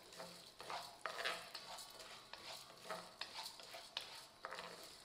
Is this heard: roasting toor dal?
yes